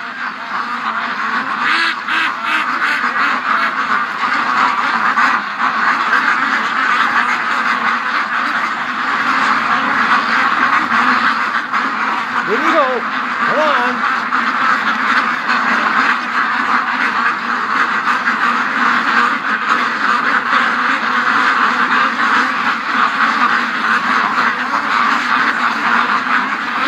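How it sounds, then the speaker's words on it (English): A flock of ducks quacks and chatters continuously in a pen, loud and close, while a person briefly coaxes them along. "Get inside the pen, you screwy ducks."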